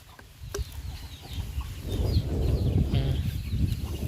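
Chickens cluck intermittently near a rural home in northern Thailand, with short scattered calls over a rumbling, busy outdoor background.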